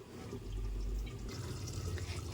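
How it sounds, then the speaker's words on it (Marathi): Water poured off parboiled rice through a colander while making chicken dum biryani, a steady close splashing and trickling gush with a low rumble that holds for the whole stretch. "ते चाळणीमध्ये मी उतरून घेते त्याला सगळं पाणी काढून घेते"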